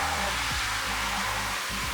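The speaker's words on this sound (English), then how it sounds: "but then underneath here are the blowers" Steady, loud broadband whoosh of a sink's built-in hand dryer blowers running continuously on a high-speed train, with a low hum beneath and no voices.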